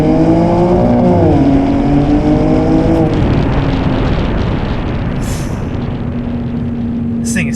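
A BMW M2 G87 with a turbocharged inline-six and titanium equal-length exhaust pulls hard through rising gears, loud and close, then settles into steady cruising road noise with brief high whooshes near the end.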